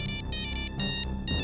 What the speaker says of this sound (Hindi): देखिए, शायद अरसलान का फोन है।